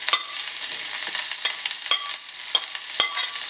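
Thinly sliced long onion strips with green chili sauté in a hot pan, a continuous oily sizzle broken by several sharp scrapes of a spoon stirring, with no talking.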